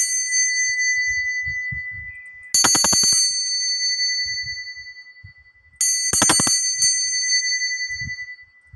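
A bell rung twice to open a tarot reading, each strike a bright metallic ding that rings on and slowly fades, with soft rustling and handling noises between the strikes.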